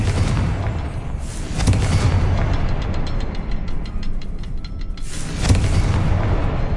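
Confringo blasting spell in Hogwarts Legacy, erupting in two heavy booming explosions with rumbling tails, the first around two seconds in and the second near the end, separated by a crackling lull.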